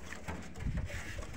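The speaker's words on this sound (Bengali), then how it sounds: "কবুতরের ঘরের ভিতরে কবুতর থাকে এইভাবে" Pigeons coo softly inside a rooftop pigeon loft in Kuwait, a short, low, muffled burst of cooing against faint background noise.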